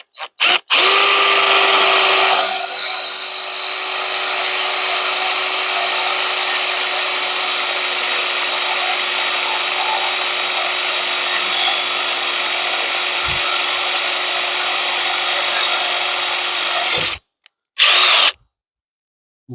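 A power drill whirs loudly and steadily for many seconds, boring a bolt hole during a lift kit install on a CFMoto UForce 800 XL, then cuts off and starts again in a short final burst.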